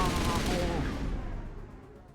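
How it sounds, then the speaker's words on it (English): Suppressing fire in Mass Effect, a dense roar of rapid shots at full loudness that fades out over a couple of seconds, with no voices. "Suppressing fire."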